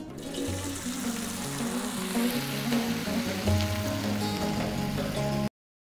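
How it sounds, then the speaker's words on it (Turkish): Turkish meatballs (köfte) for an onion stew frying in a pan of hot oil in Şanlıurfa Akçakale, a steady dense sizzle with bubbling crackle, close and continuous without talk. "Şimdi köftelerimizi kızartmaya başlıyoruz."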